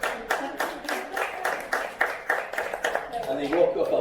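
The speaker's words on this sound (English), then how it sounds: "Give yourselves a massive round of applause" Audience applause at a speaking and branding workshop in Dubai, a run of distinct hand claps from a modest crowd under continuous talking.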